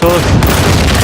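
Turret gunfire in the space survival game Empyrion: Galactic Survival during a mining complex raid, a loud, dense burst of rapid shots filling the whole moment.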